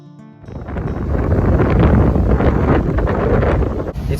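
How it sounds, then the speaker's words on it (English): Strong wind buffets the microphone at Edisto Island, a loud, steady rumbling roar that swells after a quiet start and holds with gusty texture throughout. "It's been like this all day long. Windy."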